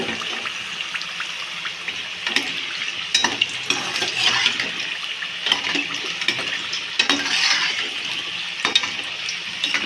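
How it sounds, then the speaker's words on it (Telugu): Snacks sizzle and crackle as they are stirred while frying in a pan, a steady close sizzling hiss broken by frequent scraping taps of the spoon, with no talking. "ఇట్లా కలుపుతూ వేయించేసుకుంటే తొందరగా వేగిపోతాయి."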